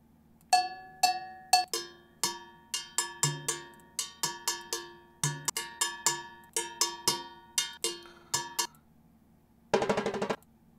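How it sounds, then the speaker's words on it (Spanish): Small timbale bell struck in a cha-cha-cha beat, bright metallic clanks in a steady repeating rhythm, fairly quiet and alone, ending with a short shaker-like burst. "hay otra campanita pequeña, timbal bell, esta va a ser."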